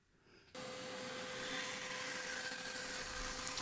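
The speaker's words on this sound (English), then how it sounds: "Get the edges trimmed off of the fretboard." A power tool, likely a router or trimmer, cuts steadily along the edges of a flamed walnut guitar fretboard for a bass build, starting abruptly after a quiet moment and running loud and continuous with a constant tone.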